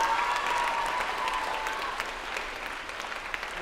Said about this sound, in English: So one more round of applause for the entire bunch,